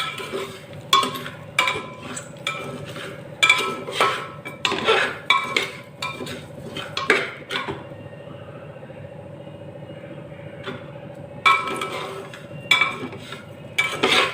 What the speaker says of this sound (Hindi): दलिया को हमें 15 मिनट के लिए भून लेना है।